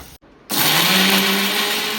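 After a brief quiet moment, a kitchen mixer grinder whirs up loudly and runs at a steady high-pitched whine, grinding ridge gourd peel into chutney in its jar.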